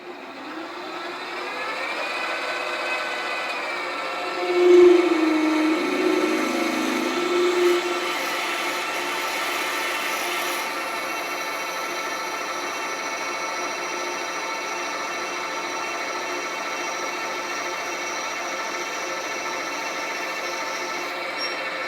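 A drill or lathe bores a hole out to 12 mm in a part for the governor of a Farm Boy hit-and-miss engine, giving a steady, loud mechanical whine with a brief heavier bite near the start, with heavy rain in the background.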